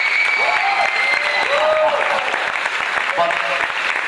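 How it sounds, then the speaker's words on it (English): Loud, sustained applause from a theatre audience for the cast at the end of a performance, with crowd noise and overlapping voices mixed in. "So give them another round of applause,"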